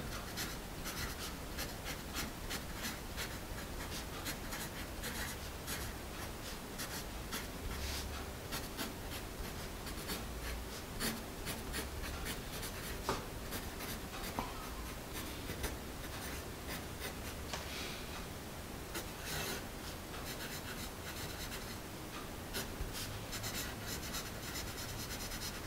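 A Dixon Ticonderoga 2HB pencil scratches across paper in a continuous, quiet, close-up run of rubbing strokes with small ticks, no voice over it.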